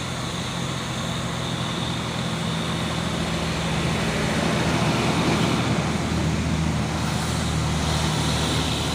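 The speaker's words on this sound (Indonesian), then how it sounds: "Truk Fuso ya, melewati tanjakan Bukit Kodok di sore hari ini." A Fuso truck climbing the Bukit Kodok hill on a highway between Pekanbaru and Medan, its engine a loud, steady low drone that strains continuously under constant road rumble, with no talking.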